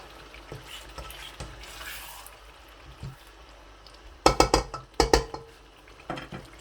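Arvi (taro root) being mixed in a pan over a low flame, with soft scraping and then a burst of sharp spoon-on-pan clanks and taps, close and clear with no talk.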